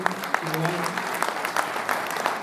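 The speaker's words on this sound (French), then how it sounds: "J'aimerais qu'on applaudisse quand même Mathieu Arnaud" Audience applause at a festival screening presenting a film about a Camargue bull-breeding ranch: a moderate crowd clapping steadily, with voices talking over the applause.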